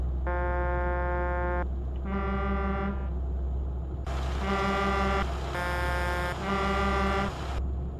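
A Mercedes truck horn in Euro Truck Simulator 2 sounds in five loud tonal blasts, two shorter ones and then three longer bursts, over a steady low engine drone.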